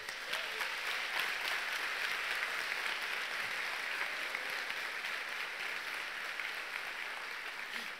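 A church congregation breaks into sustained applause, a dense, steady wash of many hands clapping that carries evenly from start to finish with a few faint voices mixed in.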